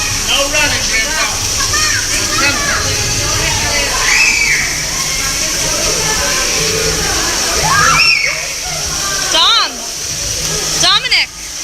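Water splashes and sloshes steadily at the Nemo's Reef children's water play area aboard the Disney Dream cruise ship, with kids' voices and nearby talking throughout.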